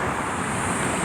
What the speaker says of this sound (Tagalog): Medyo malakas ang alon ano?